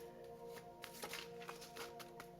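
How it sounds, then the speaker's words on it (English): Tarot cards are shuffled by hand in a quiet room, soft papery riffles and slides coming in a few short bursts, close by and faint, with no talking over them. "I'm just shuffling these up a little bit now that I can."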